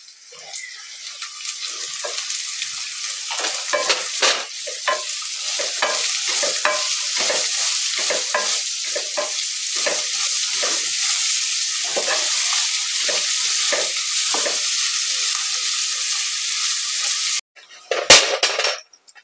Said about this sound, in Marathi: आता कांदा चांगला परतून घेऊ आपण.